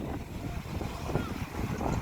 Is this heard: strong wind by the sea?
yes